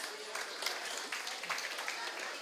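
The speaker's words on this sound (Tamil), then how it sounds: "நல்ல ஒரு கரகோஷத்தை கொடுக்கும்." Audience applause for two children at a Salangai Poojai dance recital, a steady wash of clapping from a crowd with voices mixed in underneath.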